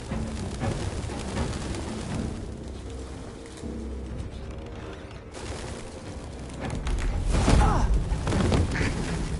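Pigeons cooing in a video game, soft repeated coos set within continuous game ambience with thumps and low booms, the sound swelling louder toward the end.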